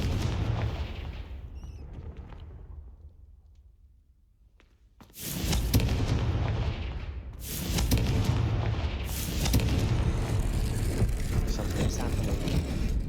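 Confringo fire spell explosions in the video game Hogwarts Legacy, a quiet lull then a sudden loud boom, followed by further heavy blasts and sustained rumbling.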